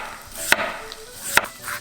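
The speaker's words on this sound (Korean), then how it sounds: "감자를 1~2mm 두께로 얇게 잘라주세요." A knife cuts a potato into thin 1–2 mm slices on a cutting board: two crisp, close knife strokes about a second apart, with quiet gaps between.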